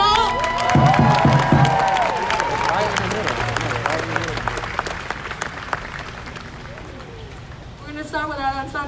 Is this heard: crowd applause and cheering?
yes